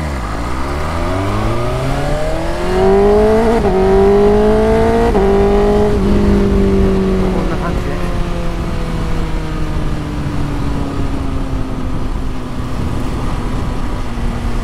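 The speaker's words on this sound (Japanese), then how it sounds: "じゃあちょっとだけね中回転まで回してみましょうか" A BMW S1000RR motorcycle with an SC Project CR-T aftermarket exhaust revs up to mid-range through rising pitch in stepped bursts, then holds a steady high drone as it pulls away, loud and continuous.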